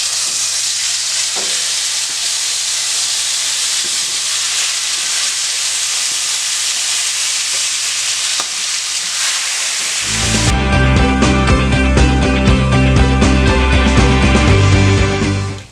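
Shrimp fry in oil in a pan, starting as a broad steady hiss that swells into a loud, dense sizzle with crackling spatter, close up and continuous, with no talking.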